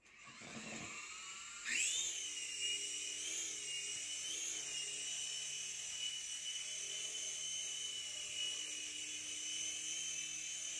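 A T2M Spark SX mini drone weighing 32 grams spins up and takes off, a high, steady whine of small propellers rising in pitch, then holding close and constant as it hovers and flies.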